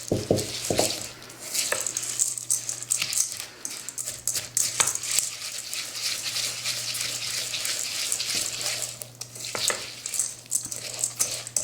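Birdseed is stirred into gelatin for homemade bird feeders, a gritty rustling and swishing with occasional clinks against the bowl, steady and moderately close over a faint low hum.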